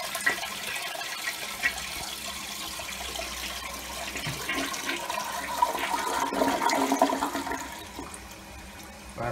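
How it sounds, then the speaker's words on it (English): A toilet flushes after dirty water from a Rainbow D3C canister vacuum's water basin is emptied into it, a steady rushing gush that swells toward the end and then tapers off, with no talking. "And simply just flush it away."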